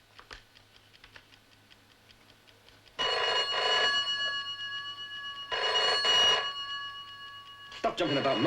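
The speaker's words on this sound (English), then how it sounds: "Answer the phone. You know I can't. Okay, okay, let it ring." A telephone rings in two long bursts, loud and close, with a quieter ticking of a disguised bomb clock beforehand and a brief voice at the end.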